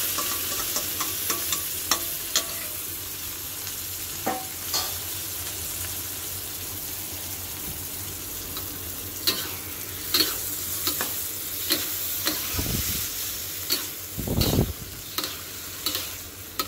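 Marinated pork frying in a pan for Filipino pork menudo, a steady close sizzle with occasional clinks and scrapes of stirring, swelling briefly near the end.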